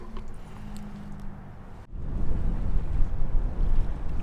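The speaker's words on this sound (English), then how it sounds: "the wind's still blowing from the east" Steady wind rushes over a boat lying at anchor in a protected anchorage near Miami, a broad continuous roar that drops out briefly then returns stronger and gustier, with no talking.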